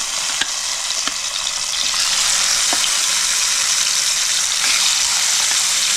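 Rohu fish pieces shallow-frying in hot oil in a pan for fish korma, giving a steady, close, loud sizzle and crackle throughout with a few sharp pops and no talk.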